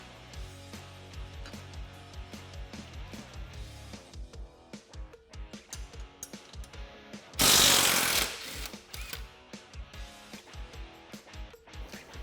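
A ratchet takes out 15mm bolts on a Can-Am Defender, making rapid clicking bursts in a quick rhythm with a short louder rush of noise partway through. Close and fairly quiet, with no talk.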